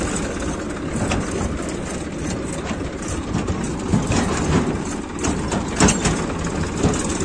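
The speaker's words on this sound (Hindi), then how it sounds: "ट्रैक्टर ले जा रहे हैं।" A tractor engine runs on a village drive, a close, heavy low rumble with rough, uneven chugging and rattles, continuous and fairly loud.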